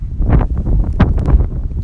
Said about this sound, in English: but it's really windy today.